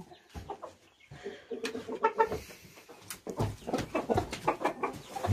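Chickens in a coop cluck in repeated short bursts, several birds calling close by at moderate loudness, with no talk over them.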